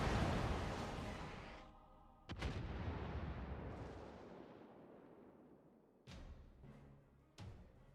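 Heavy warship broadside gunfire in a naval video game, a long booming roar that slowly decays, followed by a few more distant sharp cannon blasts, all without speech.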